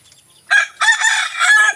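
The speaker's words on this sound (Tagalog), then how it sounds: "yung inahin ko na labuyo" Red junglefowl (labuyo) hen and rooster vocalizing close by: a short burst of loud clucking, then a longer, strained rooster crow, with no talk over it.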